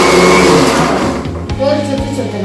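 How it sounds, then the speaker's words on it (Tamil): A mixer grinder whirs loudly in short bursts, grinding curry leaves for a Kerala-style drumstick and fish aviyal, the motor pitch dropping briefly between pulses. "3/4 கருவேப்பிலை போட்டு ஒரு 2 ரவுண்டு அரைச்சா போதும்."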